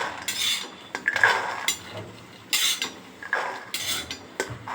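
A metal spatula scrapes and clinks against a pan, lifting chickpeas roasted in the pan onto a plate in repeated short scraping strokes, close and fairly loud.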